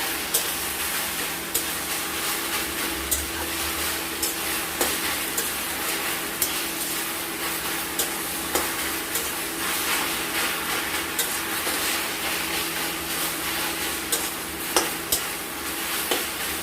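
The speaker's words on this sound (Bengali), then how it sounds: "এবার শাকটাকে আমরা নাড়াচাড়া করে নেব।" Jute leaf greens stirred as they fry in a wok, a steady soft sizzle with repeated scraping and turning noises running through the whole stretch, close and continuous with no talking.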